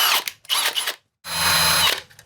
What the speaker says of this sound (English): I'm gonna attempt to use a conventional wire brush because the friggin' Dremel was so annoying.